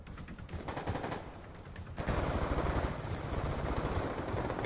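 Gunfire in a multiplayer shooter video game, dense and continuous, growing heavier and louder after the first two seconds, with rapid shots layered over a noisy battle.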